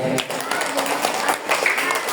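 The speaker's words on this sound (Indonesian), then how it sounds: "Tepuk tangan dong adik-adik." Children clap their hands at a school Isra Miraj celebration, a patter of scattered claps running under an adult talking over a loud, roomy hall.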